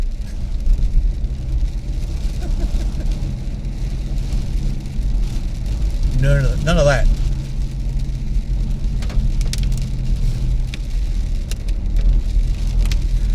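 Rain patters steadily on a moving car during a drive near Royal National Park and Stanwell Tops, over the constant low hum of the road and engine, with one short spoken remark midway.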